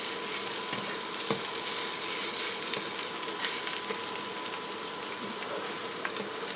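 Radish bhaji frying in a pan, a continuous close crackling sizzle with occasional light stirring scrapes, steady and even throughout.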